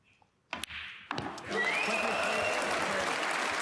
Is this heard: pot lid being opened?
no